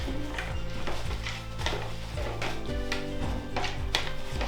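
Spoon stirring lemon juice through couscous in a bowl, giving a steady run of soft scraping and clinking strokes up close with no talk.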